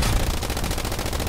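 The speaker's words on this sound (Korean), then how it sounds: "기관총 난사, 기관총." A machine gun fires a rapid, continuous burst in the World War II shooter Hell Let Loose, loud and close, with evenly spaced shots and no talking.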